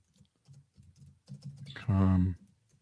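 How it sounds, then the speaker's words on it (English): Someone types a search term on a computer keyboard in Google Trends: a quick, muffled run of soft key taps up close, then a brief burst of voice near the end. "And I type in makeup artist."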